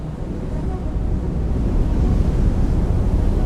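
Ocean surf rolls and wind buffets a microphone at a big-wave sea spot, a loud continuous roar with no distinct breaks and no talking.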